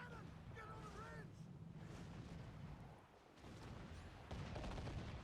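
Cannon fire booms in Assassin's Creed IV Black Flag during a naval battle, heavy blasts rumbling beneath continuous shouted crew voices and battle noise.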